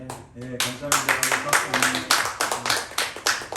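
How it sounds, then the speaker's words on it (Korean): A congregation at a Sunday worship service claps, a run of sharp, rhythmic hand claps heard fairly close, with a voice speaking at the start. "박수."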